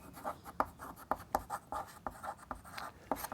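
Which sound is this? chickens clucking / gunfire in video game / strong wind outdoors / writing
writing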